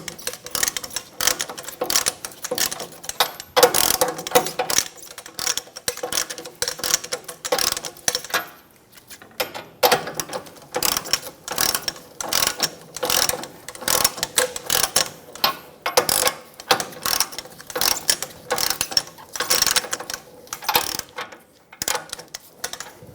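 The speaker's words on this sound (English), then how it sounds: "Go around snugging down the bolts, trying to keep them even." Rapid ratchet clicking while tightening the bolts of a rear leveling kit on a 2014-2018 Chevrolet Silverado 1500 at the axle, in repeated close bursts with brief pauses between strokes.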